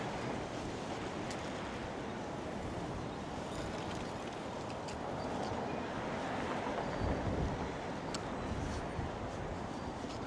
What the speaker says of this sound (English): That is quite windy.